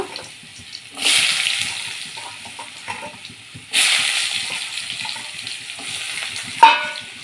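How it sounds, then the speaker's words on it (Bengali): Cut potato pieces dropped into hot oil in a wok where fish was just fried, producing two loud surges of crackling sizzle that settle into steady frying, with a sharp scrape of a spatula near the end. "সেই মাছে এখানে টুকরো করা আলুগুলো ভেজে নেব"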